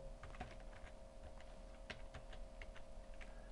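Quick, uneven clicks of a computer keyboard with scattered sharper keystrokes, steady and close, no talking, as a character name is typed into Final Draft screenwriting software.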